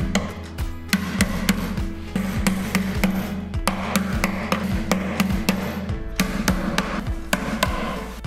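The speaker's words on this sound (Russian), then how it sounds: "Они устанавливаются с помощью гвоздей из комплекта фурнитуры. Старайтесь забивать гвозди ниже плоскости опоры." Steady hammer blows drive nails into the feet of a bedside cabinet during furniture assembly, sharp close knocks repeating about once or twice a second, with no talking.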